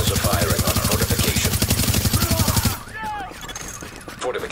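Rapid automatic gunfire at a fortification in Tom Clancy's The Division, a loud, evenly spaced stream of shots for almost three seconds that stops abruptly and gives way to quieter ambient noise.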